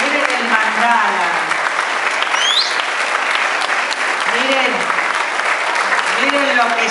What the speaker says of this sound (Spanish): Yo quiero que le demos un gran aplauso